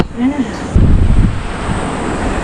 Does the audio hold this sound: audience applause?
no